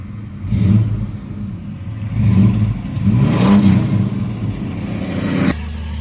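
A 1982 Chevy S10 pickup with a 2.8 V6 driving on back roads, its engine rising and falling through repeated accelerations, fairly close and steady, cutting back sharply near the end.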